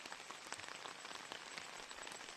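Heavy rain pours steadily near a river, a dense, continuous hiss of drops striking surfaces close by with no voices.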